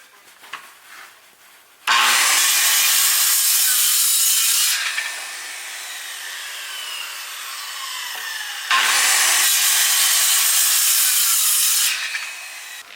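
A brand new corded Makita circular saw cuts through wood in two loud, bright bursts of high whining rasp, each lasting a few seconds, with a lower spin-down hum between the cuts.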